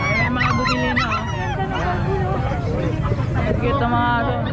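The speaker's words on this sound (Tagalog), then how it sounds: "Cute ang mga aso." Dogs bark and yip at an exotic pet market in San Carlos City, short yaps rising over a crowded hubbub of people talking nearby.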